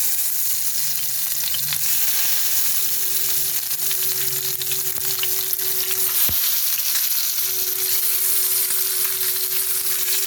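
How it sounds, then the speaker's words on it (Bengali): Eggs coated in salt and turmeric hit hot oil seasoned with dried chilli and nigella seeds, giving a steady, close sizzle and crackle with a faint hum running beneath it and one sharp clink midway. "এই ডিমগুলো তেলের মধ্যে দিয়ে দেব"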